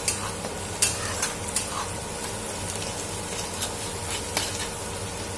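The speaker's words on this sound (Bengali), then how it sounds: "পেঁয়াজটা দেখছো তোমরা ভাজা প্রায় হয়ে গেছে" Onions frying in a pan while being stirred, a soft continuous sizzle with scattered scraping clicks from a utensil, fairly quiet and close.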